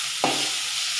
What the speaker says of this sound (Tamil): இப்போ கட் பண்ணி வச்சுருக்கிற 2 பெரிய வெங்காயம் ஆட் பண்ணிக்கிறேன்.